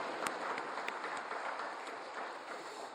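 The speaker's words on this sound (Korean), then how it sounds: "우리 모든 영광을 하나님께 박수로 올려드리겠습니다." A church congregation claps during a Sunday thanksgiving worship service, scattered overlapping hand claps heard faintly at a distance with a few sharper individual claps standing out.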